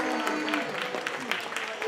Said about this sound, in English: Give a round of applause for Mitch and Nolan.